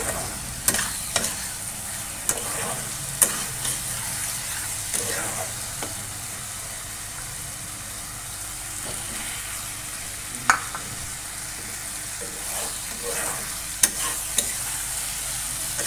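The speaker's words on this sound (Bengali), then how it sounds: "একটু মশলাটা ভাজা ভাজা হোক।" Spice paste of ground green chilli sizzles in a pan in a home kitchen, a low steady frying hiss with occasional sharp scrapes and taps from the spoon stirring.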